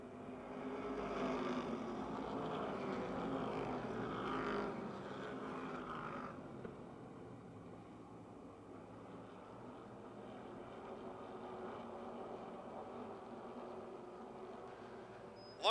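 Race cars at Motordrome Speedway roaring past in a tight pack, a steady broadband engine drone that swells loudly for the first few seconds, cuts back sharply, then holds a softer, continuous rumble.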